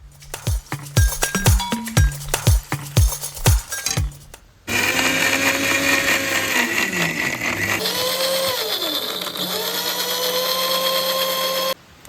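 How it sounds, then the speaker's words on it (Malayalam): A kitchen mixer grinder whirs loudly and steadily while grinding chopped ginger with a little water, after a run of sharp clinks and taps as ingredients go in; the motor drones for several seconds, then cuts off. "ഒരു സ്വല്പം വെള്ളം ഒഴിച്ചിട്ട് നമുക്ക് അരയ്ക്കാം."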